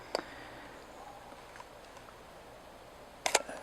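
Two crisp mechanical camera shutter clicks at a fast 1/250 second shutter speed, one at the start and a quick double snap near the end, separated by near silence.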